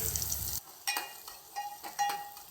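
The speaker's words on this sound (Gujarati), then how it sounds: "લીલા મરચાં તેલમાં સતડાઈ જાય ત્યાં સુધી સતડવા દેવાના" Red and green chillies with asafoetida in hot oil, a loud burst of sizzle that cuts off, then quieter frying crackle broken by sharp metallic taps and scrapes of a spoon against the pan.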